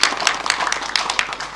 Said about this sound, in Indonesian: Boleh tepuk tangan untuk ketiga penanya kita.